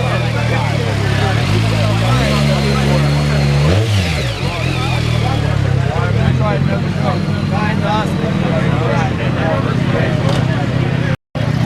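A two-stroke motorcycle engine runs and revs up and down at close range, loud and continuous, with people talking over it.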